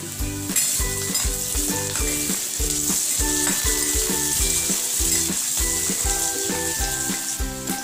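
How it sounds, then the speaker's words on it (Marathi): Onion, peanuts and curry leaves sauté in a pan, giving a strong, continuous sizzle under a rhythmic stirring scrape, with music running beneath and no voices. "कांदा, शेंगदाणे, कढीपत्ता छान परतून घेऊया"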